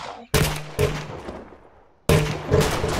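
Gunfire in the Roblox shooter Arsenal during a free-for-all match: sharp, close individual shots with echoing tails, one pair of quick shots followed by a lull and then a fresh cluster of rapid shots.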